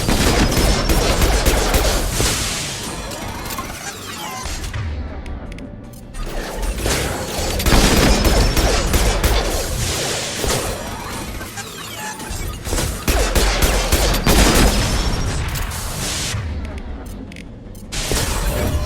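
Sustained bursts of weapon fire in Mass Effect 2 during combat at Freedom's Progress, loud rapid volleys with short pauses and crashing impacts throughout.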